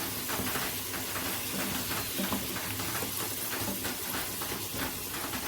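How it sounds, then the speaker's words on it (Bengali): Potato pieces frying in hot oil in a pan for a chicken curry, a steady close sizzle with crackling bursts throughout and no voices. "আমি ভালো করে ফ্রাই করে নেব আলুগুলো"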